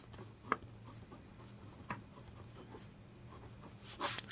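A pen writes a maths solution on paper: faint, steady scratching close by, with a few light taps and no voices.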